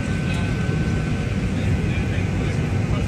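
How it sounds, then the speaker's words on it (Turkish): Steady cabin rumble inside a Pegasus airliner sitting on the ground before takeoff, a loud continuous low drone with people talking over it. "Şu anda uçaktayız."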